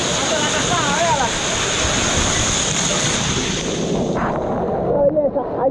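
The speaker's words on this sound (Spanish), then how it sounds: "Y aquí vamos llegando hasta la cascada, véala." Steady roar of a waterfall reached on a countryside outing, a broad continuous rush of falling water that fills the whole clip and briefly thins near the end.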